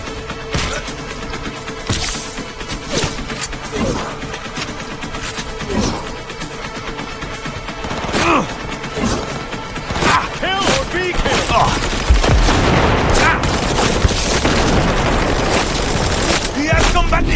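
Gunfire in a Cyberpunk 2077 firefight: repeated loud shots and bursts over a dense, busy backdrop of combat noise, with voices calling out now and then.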